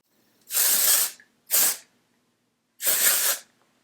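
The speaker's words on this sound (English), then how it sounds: "I'll use it now because I actually haven't put any texture spray in my hair yet" Texture spray hisses onto hair in three separate aerosol bursts, two short ones close together and a longer one after a pause, loud and close with no talking.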